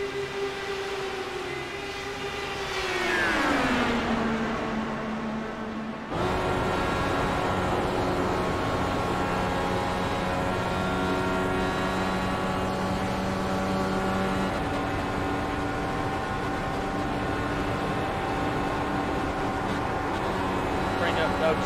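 Race car engine roaring inside Doug Kennedy's cockpit while he drafts behind the number 5 car: a loud, continuous multi-toned drone that dips in pitch early on, then holds steady for the rest of the clip.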